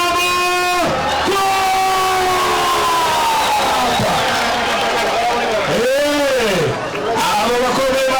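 Crowd at a prize ceremony for a refugee-camp competition cheers and whoops for the Mugunga team, a loud continuous roar of voices with rising and falling shouts and children yelling.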